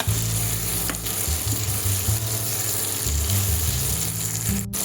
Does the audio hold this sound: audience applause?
no